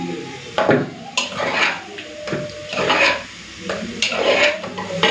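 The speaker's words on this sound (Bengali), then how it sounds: "মশলাটা হাতা দিয়ে একটুখানি মিশিয়ে নিই" A ladle scrapes and knocks against a pot while spinach and dal are stirred together, several distinct clattering strokes with brief pauses between them.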